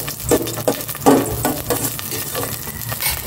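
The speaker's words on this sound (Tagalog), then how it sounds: "Maglagay na ako ng cooking oil. Igisa ko na itong bawang." Garlic sautéing in hot cooking oil in a pan, with a loud, steady sizzle and crackle broken by the scrape and clatter of stirring, close up.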